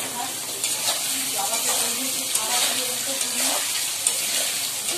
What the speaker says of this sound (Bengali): আলুগুলো একটু ভেজে নিলাম